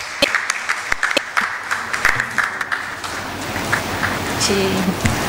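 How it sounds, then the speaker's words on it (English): A seminar audience gives a round of applause at a breast cancer awareness event, with scattered sharp individual claps forming an irregular, fairly close patter that sustains for several seconds. "Let's give her a warm round of applause as they share their inspiring journey with us."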